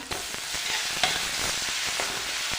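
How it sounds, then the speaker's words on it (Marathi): Onion frying in oil for kardi bhaji, a leafy vegetable dish, with a close, continuous sizzle and occasional scraping stirs of a spatula in the pan. "तेलामध्ये असा मस्त कांदा भाजून घ्यायचा"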